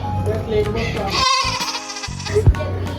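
A goat bleats over a busy background of people talking, with a short wavering cry standing out near the end.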